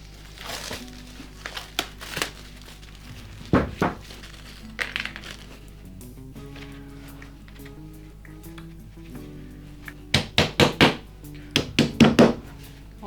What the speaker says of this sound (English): Those wedges, I will hammer them also in.